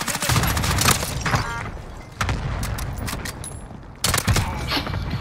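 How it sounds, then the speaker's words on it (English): Cluster strike explosions in a Call of Duty: Warzone match, a series of loud booms and crackling blasts in repeated bursts amid steady background rumble, with no talk. "Cluster strike away."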